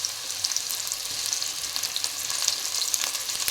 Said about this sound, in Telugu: ఇవన్నీ గోల్డెన్ కలర్ వచ్చేంత వరకు ఫ్రై చేసుకుందామండి